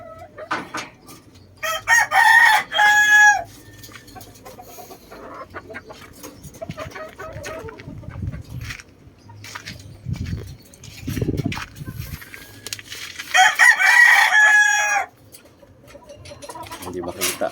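Backyard hens and roosters cluck and crow close by, with two loud crows standing out between softer clucking and a low voice talking in the background.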